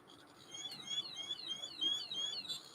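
A Radiacode radiation detector sounds its alarm beside radium watch hands: a rapid series of repeating high electronic chirps, steady and fairly loud at close range, running throughout against a faint background hiss.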